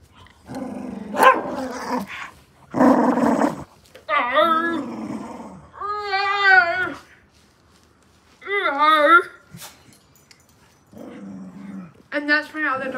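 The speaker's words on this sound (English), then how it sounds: "that's my other dog, Fonzie" Pet dogs at play, including one named Fonzie, giving repeated growls and sharp barks in close, bursty outbursts separated by short pauses, with occasional whimpering tones.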